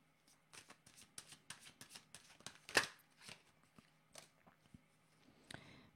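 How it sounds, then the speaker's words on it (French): Tarot cards handled and drawn during a reading, with a run of crisp slaps, flicks and riffles close by at low volume, one sharper snap standing out midway, and no talk. "Je vais demander une autre carte."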